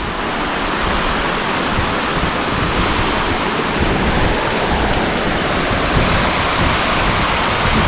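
Sipi Falls waterfall in Uganda roaring in a continuous, loud broadband rush of crashing water, steady and unbroken, close by with no voices.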